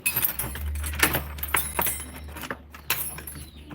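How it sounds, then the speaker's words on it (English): A bunch of keys jangles and clicks close up while a door is being unlocked, with repeated metallic rattles and scrapes over a steady low hum. "These keys have been opening the door all this time, but let's see today."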